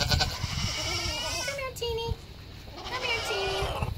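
A dairy goat on a farm gives several wavering bleats, close and fairly loud, while a person talks over them.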